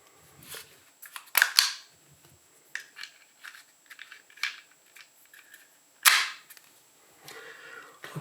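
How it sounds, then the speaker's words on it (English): Small sharp clicks and snaps from pellets being loaded into the magazine of a Walther PPQ CO2 pellet pistol by Umarex, close and intermittent with a few louder metallic clacks, no talking. "here is a completely empty magazine that we'll just load"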